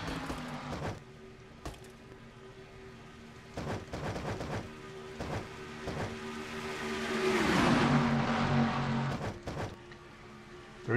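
Stock cars race through the turns at Daytona in a racing video game, engines droning steadily and swelling into a louder pass, with sharp clacks scattered throughout.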